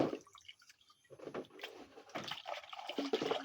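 Water is poured out of a cooking pot in uneven splashing bursts and trickles, starting and stopping over a few seconds at close range.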